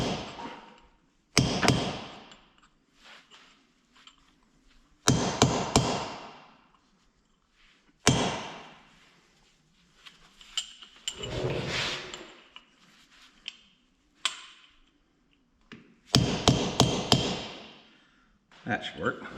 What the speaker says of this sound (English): Just knocking back the lock tab.